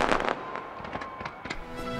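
New Year's Eve fireworks in a city park celebration, a rapid series of sharp bangs and crackling bursts, several loud pops in quick succession over a constant crowd-and-echo wash.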